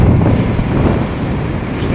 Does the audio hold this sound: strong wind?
yes